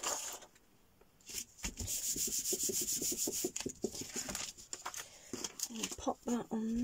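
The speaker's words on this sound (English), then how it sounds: "give it a good burnish, like so" Paper book page tag being rubbed down with a burnishing tool, a close, steady scraping rub made of repeated quick strokes that continues for several seconds.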